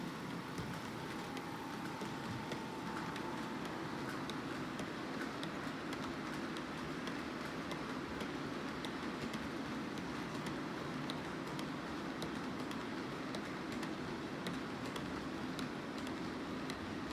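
Model trains rumble steadily around a layout's mainline track, a continuous whirring clatter that carries on unbroken for the whole stretch, with no voices.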